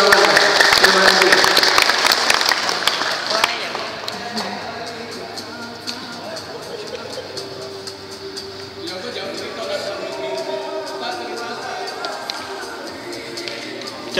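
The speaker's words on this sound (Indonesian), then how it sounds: "Aplaus buat Panderbi ke-28." Audience applauding in a hall at an alumni event, a dense, sustained clatter of clapping that stays loud and steady throughout, with a crowd murmur underneath.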